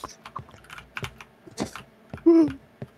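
Rapid computer keyboard clacking during a PC horror game session, close and uneven, with a short voiced sound near the end.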